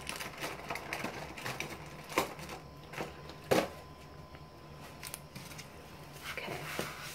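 Quiet, close scissor snips cutting wig hair come in sparse clicks, a couple of sharper cuts standing out against faint background hum.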